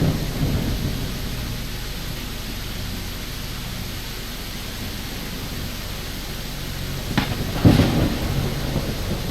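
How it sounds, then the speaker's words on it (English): A thunderstorm rumbles in the I Am Jesus Christ video game, steady heavy rain hiss with deep thunder and a sharp crack near the end. "It's too early for a storm, isn't it?"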